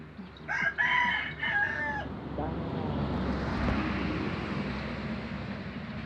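A rooster crows at a backyard chicken house, a long cock-a-doodle-doo rising after a short voice, followed by clucking and rustling farmyard noise.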